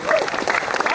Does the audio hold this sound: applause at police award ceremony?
yes